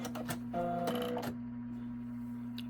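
A Brother ES 725 sewing machine running an overlock stitch, with a quick whirring burst of needle strokes and a steady motor hum that stops after about a second, leaving a low hum behind.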